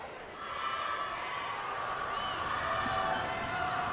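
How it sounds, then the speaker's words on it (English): A crowd at a high school basketball game between the McCutcheon Mavs and Kokomo Wildkats roars in a sustained, loud wash of cheering that builds slightly and holds steady, with a commentator talking over it. "Crowd trying to get as loud as they can."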